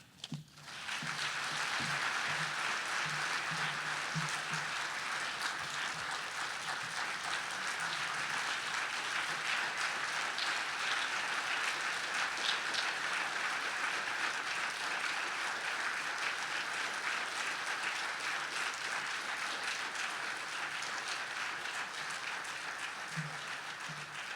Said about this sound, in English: Give him a nice big round of applause one more time